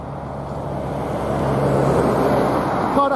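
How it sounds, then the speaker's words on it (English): Steady rumble of traffic on a busy road near RAF Lakenheath, a continuous low wash of passing cars and heavier vehicles that swells slightly, with no clear talk over it. "At the moment, the traffic noise you can hear is on the..."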